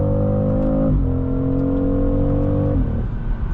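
A 2025 BMW X3 M50 hybrid accelerates hard on boost, its engine drone loud and steady from inside the cabin, with pitch climbing and dropping at two quick gear shifts.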